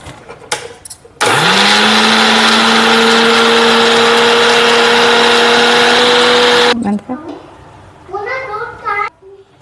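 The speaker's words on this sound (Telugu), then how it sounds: "ఇప్పుడు మిక్సీ చేసుకుందాం" A mixer grinder grinds curry leaves, whirring loudly and steadily for about six seconds, starting abruptly and cutting off, with brief voices before and after.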